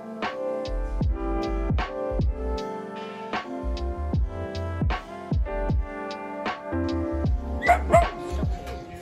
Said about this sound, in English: Don't get on it if there's a yapping dog in the carriage